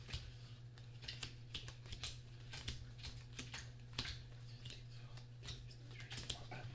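Playing cards being shuffled at a table make a steady run of quick, light clicks and riffling taps. A low, constant hum sits underneath, and the sound is fairly faint and close.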